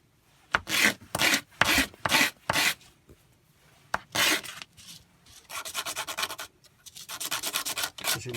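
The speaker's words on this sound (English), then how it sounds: "You could just sand off the rough." Glass paper rasps over the rough edges of a small boat, close and loud: a run of short, rhythmic back-and-forth strokes, a brief pause, then quicker, lighter scrubbing that grows steadily toward the end.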